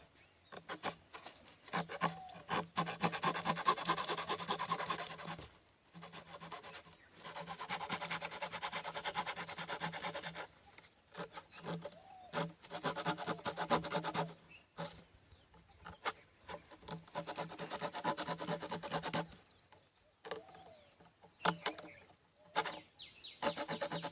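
A plastic container being cut by hand, one side after another, for a homemade plant-fertilizing device; repeated close rasping, sawing strokes come in bursts with short pauses between.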